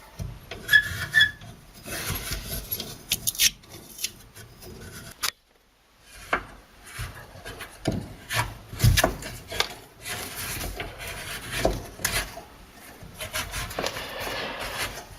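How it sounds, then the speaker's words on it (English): A hacksaw cuts into a tiled shower shelf with close, rhythmic rasping strokes in uneven bursts, briefly pausing in the middle before sawing resumes. "I might have to use a hacksaw to cut it"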